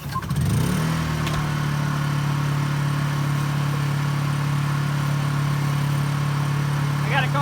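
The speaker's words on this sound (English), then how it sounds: "Turn on that generator so you can kind of see what things look like" A portable generator runs steadily near a sailboat and trailer being readied for a Christmas parade, a loud, even mid-pitched engine hum that settles after a brief start-up surge and holds alone.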